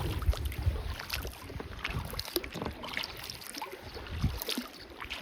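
A kayak pushing through reeds on a Bowron Lakes channel, with steady brushing and swishing under light wind and water noise, fairly close and continuous.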